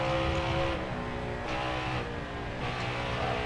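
A race truck engine in NASCAR Heat 4 drones continuously at high revs, pulling and accelerating around an oval, loud and steady with slight dips in pitch.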